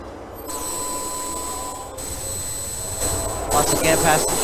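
A simulated New York City subway Z train runs on an elevated line with a steady, loud rumble, then screeching wheels and a higher, busier clatter building toward the end.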